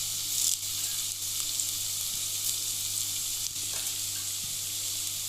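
Green chillies and curry leaves sizzle steadily in a hot pan as they are sautéed, a loud, close, continuous frying hiss with faint stirring scrapes and no talking.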